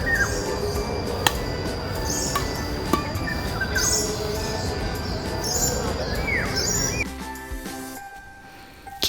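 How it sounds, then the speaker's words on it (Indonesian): Birds and other small animals call in an Indonesian city park, with a dense wash of chirps, tweets and trills over steady outdoor background noise that drops away near the end. "terdapat suara-suara burung atau binatang lainnya yang dapat didengar."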